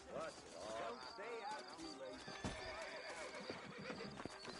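Horses whinny and neigh repeatedly over clip-clopping hooves, with voices talking throughout in a busy scene from the video game Red Dead Redemption on PS5.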